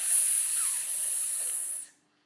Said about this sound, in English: a sizzle is when you push air between closed teeth